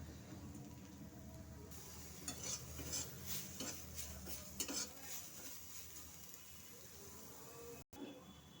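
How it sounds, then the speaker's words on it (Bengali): Eggplant fries in a pan with turmeric, a steady sizzle under repeated scraping and stirring clatter of a utensil against the pan, close and fairly loud with brief pauses. "আমি ভালোভাবে বেগুনগুলোকে ভেজে নেব।"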